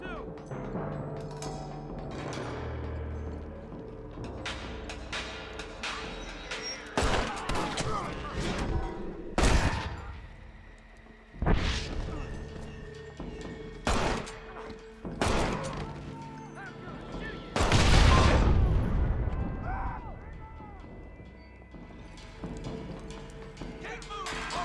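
Western shootout gunfire in the Red Dead Redemption game, with repeated loud gunshots and bursts over a busy background of hoofbeats and game sounds, with voices heard at points.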